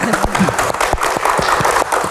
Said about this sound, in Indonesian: Tepuk tangan untuk Profesor Nasaruddin.